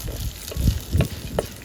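Onion fries in a pan with lentils for a cabbage and beans curry in village cooking, a low sizzle broken by three soft stirring swishes.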